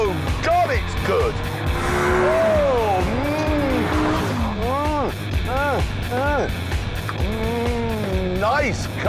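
A Corvette ZR1 sports car drives past while tires squeal and skid over a continuous engine roar. Loud, overlapping swooping pitch sweeps run through the whole clip, with speech mixed in.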